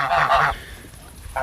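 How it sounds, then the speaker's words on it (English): Geese at a backyard goose house give a couple of loud, nasal honks close by, a brief pause, then another honk begins at the end; no speech. "Well, here are the geese."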